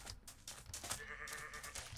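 Sheep bleat in a Minecraft-style video game: several short, close bleats overlap in quick succession against faint background game sound.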